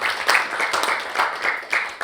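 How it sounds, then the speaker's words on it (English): A small group clapping for about two seconds, uneven and moderately loud, with a few sharper claps standing out. "Let's give him a round of applause."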